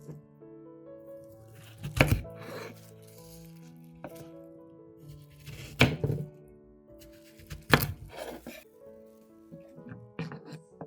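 A knife cuts watermelon slices into pieces on a board, producing three or four distinct, fairly loud thunks spaced a few seconds apart over a soft tonal background.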